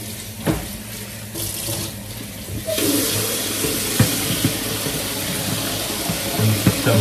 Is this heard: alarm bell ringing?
no